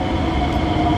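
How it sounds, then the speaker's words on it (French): Steady, loud rumble and hiss of a metro train at a platform, a continuous mechanical roar. "Le métro, il est là."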